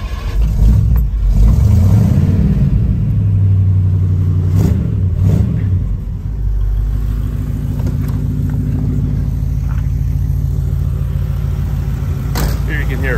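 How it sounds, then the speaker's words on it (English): A 1960 Ford Thunderbird idling steadily at close range, a continuous low rumble with a faint exhaust leak ticking and a fan hum, loud and unbroken throughout the stretch. "Here you can hear it running."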